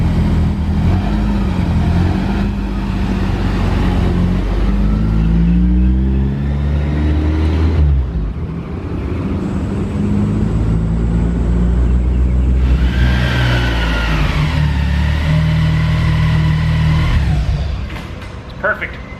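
A Honda S2000 on a test drive, its engine droning and revving through rising and falling gears with steady road rumble, heard from inside the cabin.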